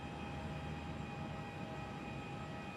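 An Embraer jet taxis at Perth Airport, a faint, steady distant engine drone with a constant whine, unbroken and without talk.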